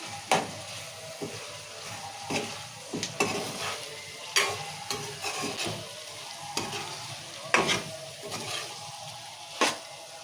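A spoon stirs ginger-garlic paste and eggplant frying in hot oil, with repeated scraping strokes over a low, steady sizzle, close and clear.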